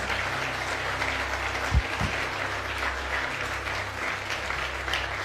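A church congregation claps together in sustained, steady applause that fills the room at a fairly even level, with one brief louder thump partway through and no speech over it.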